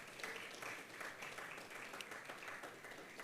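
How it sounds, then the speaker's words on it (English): A crowd claps together at a sports conference gathering, a quiet, steady patter of many hands heard from a distance for a few seconds with no speech. "Please clap for that statement."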